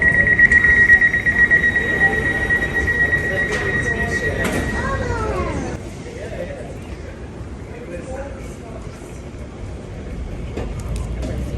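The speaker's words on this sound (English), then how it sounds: "Please mind the closing doors." On an Elizabeth line platform a train sounds a steady, repeated high warning tone as its doors close for departure, heard over rumbling train and station noise before the tone stops and the carriage hum drops.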